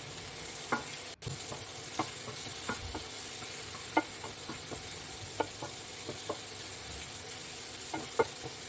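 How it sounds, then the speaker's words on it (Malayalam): Sliced onions sautéing in a pan over low heat, a quiet steady sizzle punctuated by regular light taps and scrapes of a spoon, one sharper knock early on, no talking. "അതിനകത്തേക്ക് ഞാൻ സവോള ഇടുകയാണ് സവോളയെ നമുക്കൊന്ന് വഴറ്റിയെടുക്കാം"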